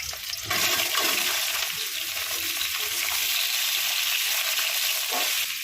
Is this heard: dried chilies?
yes